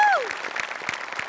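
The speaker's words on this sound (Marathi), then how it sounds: "सगळ्यात आधी सेटिंग डिपार्टमेंटसाठी टाळ्या." Audience applause for the set design at a live comedy show, a short burst of clapping from the crowd that starts right after a voice and fades out within about a second.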